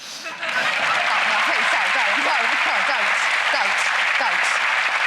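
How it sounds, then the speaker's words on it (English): A TV studio audience at a magic show claps loudly and continuously, a dense steady applause with some voices and cheers mixed in. "I too forgot to applaud"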